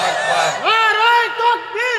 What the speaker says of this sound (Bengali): যারা যুবক একটা তাকবীর দিয়ে দাও তো